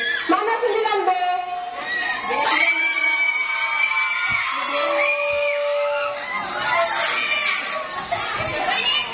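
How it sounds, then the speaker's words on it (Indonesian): A crowd of school students cheers and shouts at a speech contest, a dense, lively mix of young voices calling out continuously throughout. "Tepuk tangan yang meriah untuk Desi"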